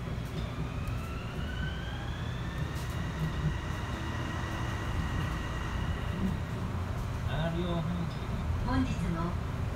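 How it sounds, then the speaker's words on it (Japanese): The Kobe Port Liner automated transit train runs with a steady rolling rumble and rising electric motor whines inside the car, while voices speak over the noise. "この電車は北埠頭行きです。"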